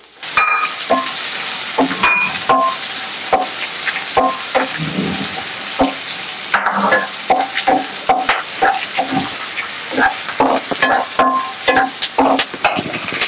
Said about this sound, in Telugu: సన్నగా తరిగిన ఉల్లిపాయలు వేసుకోవాలి